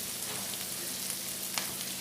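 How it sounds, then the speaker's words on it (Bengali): Onions frying in oil in a pan while being stirred, a soft steady sizzle with light scraping strokes, fairly faint and close. "পেঁয়াজগুলো ভালোভাবে ভাজা হয়ে গেছে"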